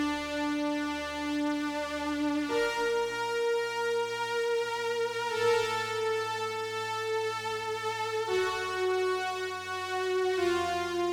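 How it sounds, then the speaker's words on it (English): A sustained synthesizer pad with a string-like tone, recreating the sound of a song, holds smooth, rich chords that shift every few seconds with no percussion or voice. "which is those pad string sounds that sound like this"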